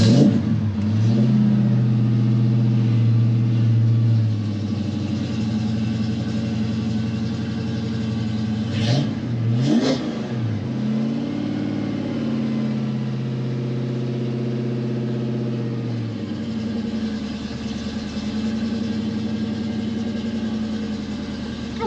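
A 1990 Ford Mustang GT V8 running rough, struggling to stay running. It idles with a steady low rumble, gives a couple of short revs around the middle, then settles back to an uneven idle, close and continuous.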